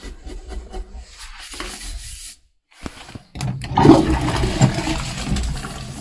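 A household toilet with a faulty flush mechanism that has to be worked by hand, giving a loud, close rush of water after some rubbing and scraping and a brief pause, with no talking.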